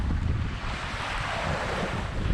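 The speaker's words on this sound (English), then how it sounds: "now we're pretty much just out in the wide blue ocean" Open ocean waves and strong wind at sea during a transatlantic sailing passage from Las Palmas, a dense steady roar of rushing water and gusting wind buffeting the microphone, loud and continuous with no voices.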